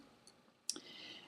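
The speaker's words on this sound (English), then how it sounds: "I can hover anywhere in the paragraph and triple click" A computer mouse button clicked in a quick triple to select a paragraph of text: sharp, close, faint clicks bunched near the middle of a quiet clip, with a soft earlier tick.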